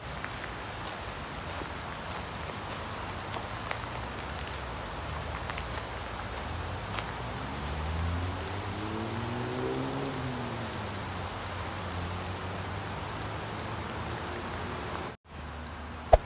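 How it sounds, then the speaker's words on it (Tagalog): Steady rain falls over Mission Regional Park in Canada, a continuous soft hiss of drops on surfaces with no talking, holding an even level until a brief dropout near the end. "Hindi masyado ganda yung tingnan yung klima natin ngayon kasi umuulan."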